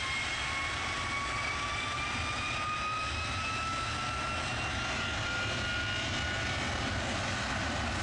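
A jet airliner takes off from runway 23 left at Manchester Airport, a steady loud engine roar with a rising whine, sustained and distant-to-mid range without pause.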